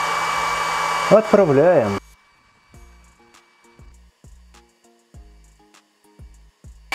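A 33 W diode laser engraving machine with its air pump running: a loud steady blowing hum with a warbling tone for about two seconds, then quieter rhythmic whirs and clicks as the head moves quickly, with a brief spoken word.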